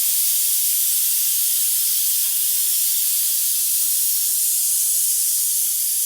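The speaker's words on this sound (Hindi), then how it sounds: "सीटी बज रही है कुकर की।" A steady, loud hiss of steam rushing continuously from a venting pressure cooker whistle while meat and potatoes cook, with no break in the sound.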